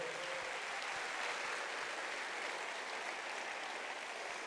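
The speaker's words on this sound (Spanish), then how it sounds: "Denle un aplauso, Señor, por esas vidas" A church congregation claps in a dense, continuous burst that stays steady and fairly loud throughout, with no voices over it.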